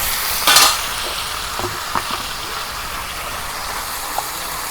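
Spices go into a hot pan and fry with a continuous sizzle, broken by a short loud burst near the start and a few scraping stirs afterward.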